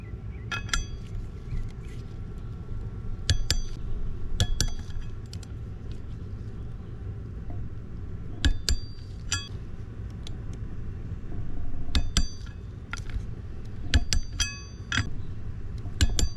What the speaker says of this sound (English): So go ahead and torque these up. Follow the specs, use a torque wrench.